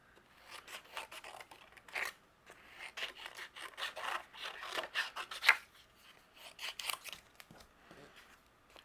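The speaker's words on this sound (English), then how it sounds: "we're going to take our scissors and fussy cut out our telephones" Scissors snip through paper in a series of short, irregular cuts, close and fairly quiet, with no voices.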